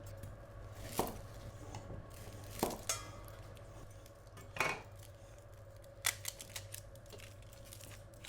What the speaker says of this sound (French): je vais m'occuper des oignons et de l'ail